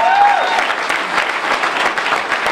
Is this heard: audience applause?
yes